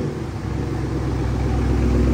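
A 2023 Dodge Hellcat with an MBRP straight-pipe race exhaust and clogged catalytic converters, its engine rumbling loudly and steadily up close, with a deep, continuous low drone that builds slightly.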